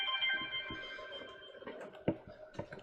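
A phone rings with an incoming telemarketer call, a faint tonal ring that holds for about a second and a half and then fades. Small clicks and knocks in a quiet room follow.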